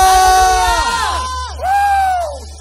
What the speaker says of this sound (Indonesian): Mari semua sorakan haleluya.